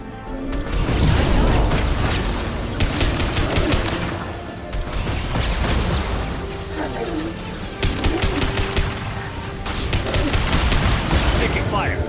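Sustained firefight gunfire from the video game Mass Effect 2, with dense overlapping shots and bursts running loud throughout, punctuated by booms and mechanical clatter, while voices speak over the combat.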